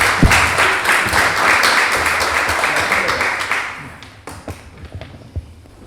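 Audience applause at a seminar in a museum of education, a loud burst of many hands clapping that thins and fades after a few seconds into scattered claps and taps.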